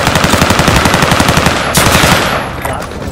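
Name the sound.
gunfire in a video game, player being shot at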